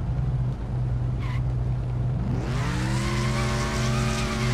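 A car drifts in Wreckfest, its engine droning steadily before a long, rising tire squeal with screeching tones takes over and holds loudly to the end.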